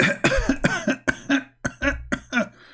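A person coughs repeatedly, about eight harsh bursts in quick succession, loud and close, with a hum beneath them.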